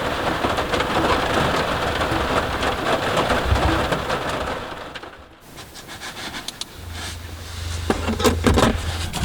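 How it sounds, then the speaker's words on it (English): Steady rain patters loudly on the roof and walls of a truck camper on a first-generation Toyota Sequoia camping in winter snow, with a brief lull midway and a low rumble like distant thunder near the end. "it's definitely rain out there"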